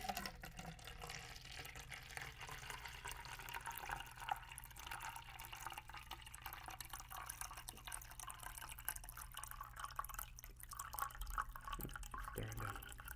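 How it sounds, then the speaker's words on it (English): Water pours steadily in an indoor ASMR setting, a continuous trickling and dripping stream with soft splashes, close to the microphone and without any talking. "And here goes the water pouring here."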